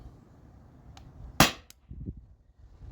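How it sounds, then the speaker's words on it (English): A single sharp, loud crack of a 12-gram CO2-powered airsoft pistol firing a 3-gram Byrpro ball over a chronograph, with faint clicks just before and after and a quiet mechanical rattle following. "So 5 more rounds of the Byrpros, 3-gram balls."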